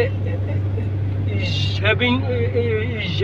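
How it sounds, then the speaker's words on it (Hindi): A car engine drones steadily while driving held in second gear without changing up, a constant low hum running under a man's speech throughout. "जिसमें से इंजन का शोर भी ज़्यादा ये महसूस होता है।"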